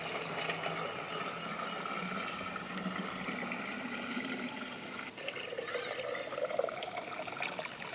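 Green calotropis fertilizer solution pours steadily into a water pot with a continuous splashing rush, close by, filling the vessel without pause.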